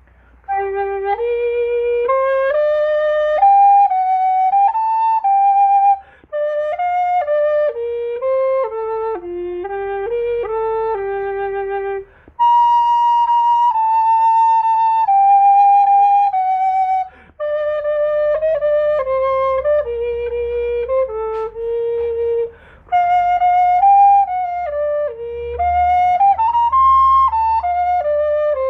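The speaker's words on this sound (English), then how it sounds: "So that's the sound of the Yamaha 402 Rothenberg." A Yamaha 402 Rottenburgh soprano recorder plays a clear, breathy melody of flowing notes in several phrases separated by brief pauses, close and solo.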